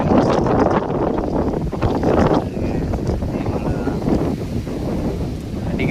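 Strong wind gusting across an open spot ringed by natural hills near Coimbatore, a loud, steady broadband rush buffeting the microphone for the whole stretch, swelling in bursts near the start and again around two seconds.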